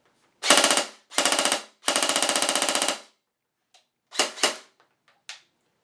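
A G&G Combat Machine airsoft rifle on a 9.6-volt battery fires on full auto in quick rattling bursts, three long strings followed by a few short ones, close and crisp against silence.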